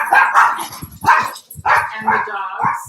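A dog barks in a series of loud, close, rough calls that come in short bursts and nearly fill the moment, with no clear talking.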